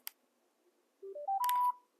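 Power-on tones from a Sena motorcycle helmet communicator, switched on by holding the plus and middle buttons: a short click, then a rising series of four clean electronic beeps, the last held longer, close and fairly loud.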